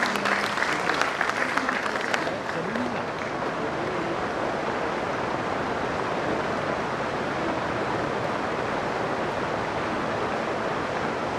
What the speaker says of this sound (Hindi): तो ताली से स्वागत